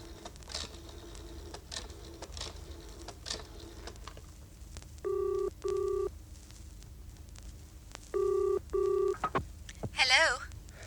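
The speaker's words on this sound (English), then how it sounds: "I'd better ring the factory before it closes." On an old telephone, tones are dialled in two quick bursts of paired beeps, clearly audible over a quiet room with faint rustling, and a brief ringing sound follows at the end.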